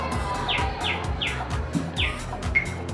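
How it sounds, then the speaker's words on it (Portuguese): Recorded bird chirps play from an interactive sound installation cube at an exhibition: five or six short, bright, evenly spaced tweets over a low, steady background murmur. "Vamos colocar o passarinho para ver como fica."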